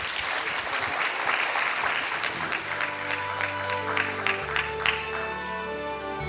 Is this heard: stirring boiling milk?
no